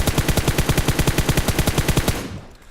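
A fully kitted M4 rifle fires full auto in a video game: a rapid, loud, evenly spaced burst of about two dozen shots lasting roughly two seconds, then a fading tail with no talk.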